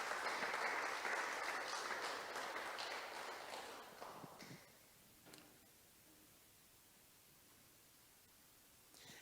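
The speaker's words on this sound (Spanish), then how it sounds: "un aplauso a él" Applause from a church congregation during a sermon, a dense wash of many hands clapping that fades steadily over several seconds and dies out, leaving near silence with a few faint stray sounds.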